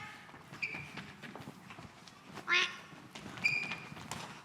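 Voices on a farm-themed stage imitate ducks with three short nasal quacks, spaced a second or so apart, over a soft background of shuffling and light footsteps.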